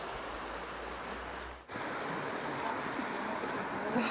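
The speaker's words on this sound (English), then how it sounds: "The River Shannon." The River Shannon flows in a steady broadband rush of moving water, close and continuous, with a brief dip and shift in tone partway through and no talking.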